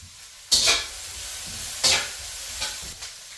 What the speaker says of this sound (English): I'm going to stir these a little bit here.